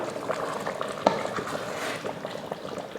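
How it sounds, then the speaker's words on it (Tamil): Gentle stirring in a bubbling pot of chicken biryani, a soft liquid churn with one brief clink near the start, steady and close with no voices. "இப்போ ஒரு கிளறி விட்டுறலாம்"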